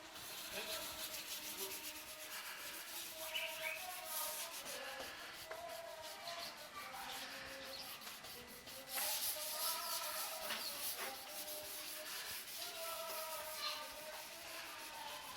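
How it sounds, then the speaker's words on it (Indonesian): Wet sanding of car paint with 1500 or 2000 grit sandpaper, a steady rhythmic rubbing and scrubbing that runs continuously at close range with repeated back-and-forth strokes. "sebelumnya akan kita amplas dulu kan, pakai amplas 1500 atau 2000 kan"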